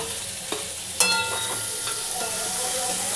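Ginger, onion and garlic frying with potato in a pan, a steady close sizzle with a few sharp clinks of a utensil stirring against the pan.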